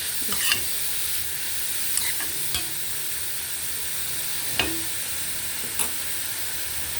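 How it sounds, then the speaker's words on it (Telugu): Carrots fry in a pan for carrot rice, a steady close sizzle with several brief spatula scrapes and taps as they are stirred. "క్యారెట్ కొంచెం మగ్గ పెట్టుకోవాలండి ఇలా"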